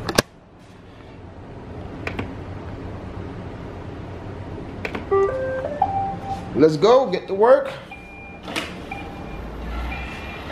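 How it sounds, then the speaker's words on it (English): A Roomba robot vacuum starts up and backs up around a house, giving a few sharp beeps and a rising chime-like tone sequence, with someone talking over it. "about to turn my Roomba on, man"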